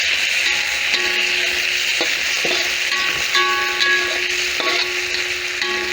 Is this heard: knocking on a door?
no